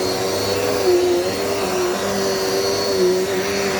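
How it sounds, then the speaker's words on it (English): A Dirt Devil multisurface vacuum cleaner runs close by with a loud, steady motor whine and airflow rush, its pitch wavering slightly, with no talking. "It's a great vacuum."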